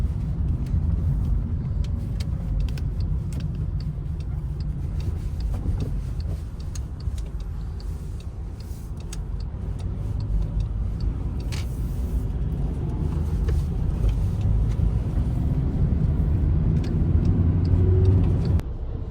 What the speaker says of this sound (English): we are stuck in some Russian Moscow traffic